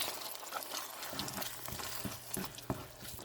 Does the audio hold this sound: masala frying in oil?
yes